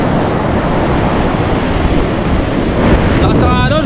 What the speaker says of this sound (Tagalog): lakas ng alon, grabe.